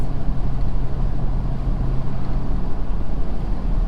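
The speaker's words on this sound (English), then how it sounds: "also see how the engine brake works" A 2020 Ford Super Duty pickup with a 10-speed transmission uses its engine brake while towing 18,000 lbs downhill, producing a loud, steady low droning rumble with a constant tone, heard close and without talk.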